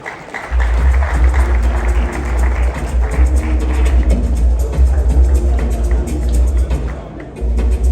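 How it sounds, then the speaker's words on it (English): Audience at a forex expo applauding, a dense continuous wash of clapping from a large crowd, loud and close over deep booming event music. "Ladies and gentlemen, one more time, a round of applause for them."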